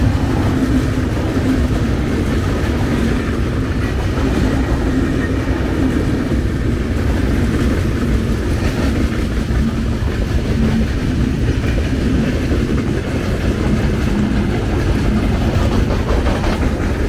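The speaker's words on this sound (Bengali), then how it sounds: "ওই যে ট্রেন আসতেছে" A train rolls into Hili station near the India–Bangladesh border, a loud continuous rumble of railway wagons with a steady rhythmic clatter that carries through the whole stretch without talk.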